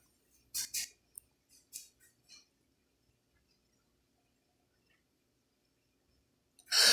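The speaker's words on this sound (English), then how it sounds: "I'm going to take my scissors and I'm going to dovetail all of my ends." A few crisp snips of scissors cutting dovetails into ribbon ends near the start, then quiet, with a brief louder rustle at the very end.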